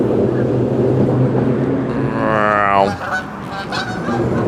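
A goose honks loudly in a rising, stretched call over a steady low rumble of machinery or ship traffic on the Welland Canal, followed by a few shorter honks.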